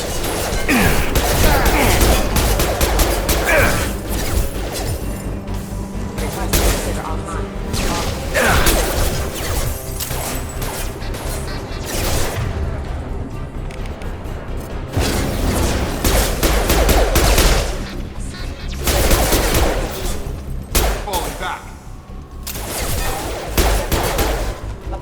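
Dense sci-fi gunfire from the video game Mass Effect Legendary Edition, loud and continuous, with rapid bursts, crashes and whooshes layered over a throbbing battle din.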